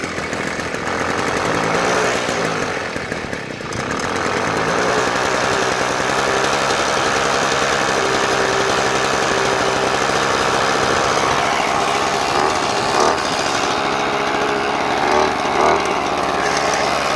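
A 50cc Uberscoot motorized scooter engine idles steadily while warming up on choke after a cold start, a loud, continuous buzzing putter that stays fairly even throughout.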